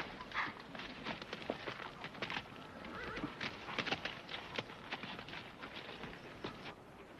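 Horse nearby whinnies and its hooves clip-clop on the ground, giving uneven, fairly faint beats in an outdoor Western scene, with no clear speech.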